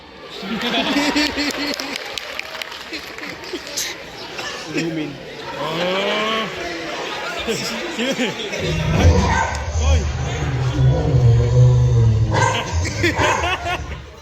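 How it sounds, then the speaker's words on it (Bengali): A dog barks and yips during a televised election talk show, the barks sounding as short bursts amid ongoing talk, followed by a louder stretch of crowd-like noise near the end. "এই কে কুকুরের আওয়াজ আসলো কোত্থেকে?"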